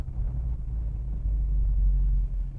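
A 1968 Dodge Coronet 500 muscle car idles with a deep, steady exhaust rumble, loud and close, swelling slightly midway through with no talking.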